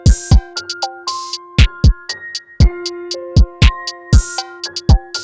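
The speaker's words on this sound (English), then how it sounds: "We have two different, very similar sounding cowbells that both accent each other quite nicely in the mix." Hip-hop beat from a track with two similar cowbell samples trading hits, ringing metallic tones over punchy kick drums and crisp hi-hats, loud and dry without any voices.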